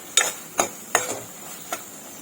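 A spoon scrapes and taps through spiced masala frying in oil in a pan for a dried green pea usal, four or five sharp clinking strokes at an irregular pace, close and clear, with no talk.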